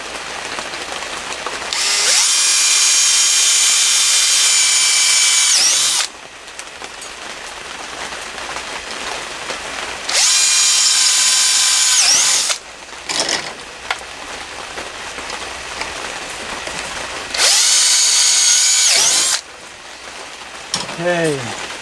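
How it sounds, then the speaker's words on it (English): A power drill bores holes in hardware-store parts for a mason jar hydroponics system in three loud, sustained bursts of high whine, separated by quieter stretches of handling noise and brief clunks. "we're going to drill those 3 holes"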